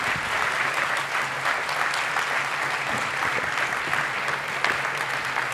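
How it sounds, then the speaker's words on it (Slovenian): Steady, dense applause from a conference audience at a public administration event, continuous clapping at even loudness throughout, with no speech over it. "lepo prosim še en velik"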